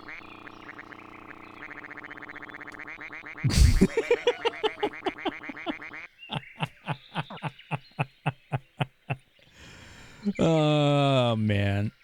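Synthesized quacks from a duck character in the PS1 game Suikoden come as a rapid run of short, loud, evenly spaced honks, among other electronic game tones and a buzzing effect at the end.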